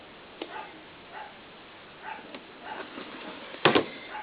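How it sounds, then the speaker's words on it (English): A dog barks a few times at a distance, short sharp yaps spread out over a few seconds against a quiet room, with one louder bark near the end. "you hear my dog barking in the background"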